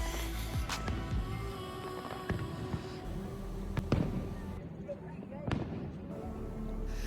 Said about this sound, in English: So it's 10 p.m. and the fireworks started.